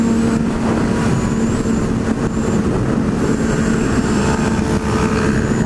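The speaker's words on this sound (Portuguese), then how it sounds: "Aí tá aparecendo muita moto." Heavy road traffic with many motorcycles, including Honda CB500s, passing steadily nearby, a continuous loud engine roar without pauses.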